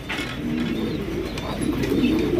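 A pair of Bull Head Archangel pigeons coo steadily at close range, their low, throaty murmurs rolling on continuously with no talking over them.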